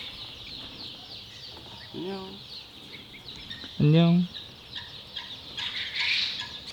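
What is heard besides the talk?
newly hatched baby chicks peeping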